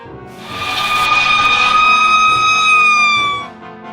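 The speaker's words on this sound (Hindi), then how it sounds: "इसके बाद फायर इंजन वहां आ पहुंचा।" A fire engine's wailing siren rises in loudly and holds steady, close and dominant, then cuts off near the end.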